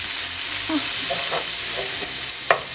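Fresh bean sprouts sauté in a hot pan, giving a loud, constant sizzle close by, with a few soft scrapes and taps from a stirring utensil scattered through it.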